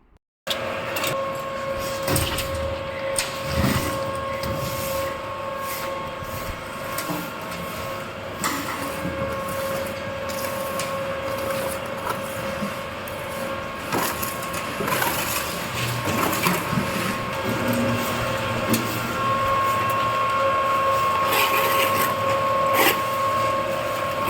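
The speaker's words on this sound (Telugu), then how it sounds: "ఇది మొదటి మిషన్ దీనిని తడి మిషన్ అంటాము తడి చెత్తను దీంట్లో వేస్తే ఇది చిన్న చిన్న ముక్కలుగా చేసేస్తుంది" A wet waste shredding machine grinds and cuts food and organic refuse into small pieces, a steady loud mechanical churning and rattling that runs throughout with grinding bursts and no talk.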